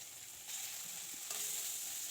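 Chopped onion and green chili hit hot oil with a steady, bright sizzle that swells sharply twice as more goes into the pan, continuous and close.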